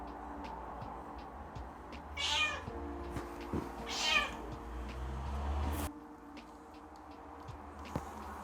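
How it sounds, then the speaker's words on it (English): Kittens meow in a quiet room, two clear cries a couple of seconds apart and a shorter mew near the end, with soft ticks and small movements between them. "I got to sit around with a bunch of kittens quite a lot"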